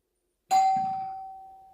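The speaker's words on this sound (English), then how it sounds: "Ring the doorbell." A single doorbell chime strikes suddenly after a short silence, then rings out with a clear sustained tone that slowly fades.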